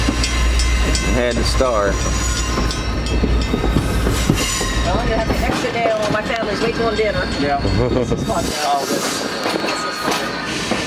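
An Aberdeen Carolina and Western F-unit diesel locomotive backs out with its train, making a loud, steady rumble, wheel clatter and some squealing. A person talks over the noise.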